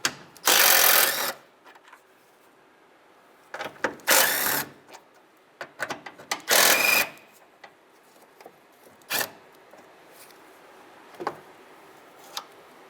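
Three 10mm bolts being removed from the coolant reservoir of a 2007-2015 Mazda CX-9, heard as several loud bursts of a power tool whirring and ratcheting, separated by quieter clicks and handling noises, close by.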